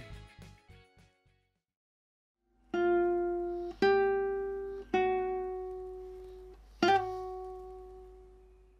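Classical guitar plays a rhythmic figure from Ginastera's Guitar Sonata, third movement: quick muted strikes, then several ringing plucked notes and chords, each sounding clearly and decaying in a quiet room.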